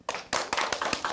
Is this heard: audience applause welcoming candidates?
yes